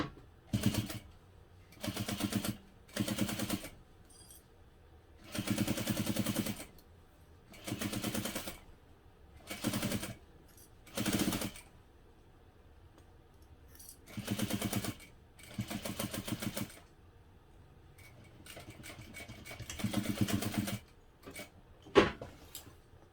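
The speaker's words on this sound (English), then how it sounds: "now I'm going to sew that on using a 1/8 inch seam allowance" A sewing machine stitches a 1/8 inch seam on a hobo bag in repeated bursts of rapid mechanical rattling, each run a second or two long, separated by pauses, with a sharp knock near the end.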